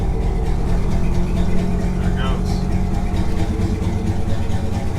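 A 1962 Chevy Impala with a 350 small-block V8 idles steadily after a cold start, a loud, close, throbbing low rumble with an even pulse, with a person talking over it.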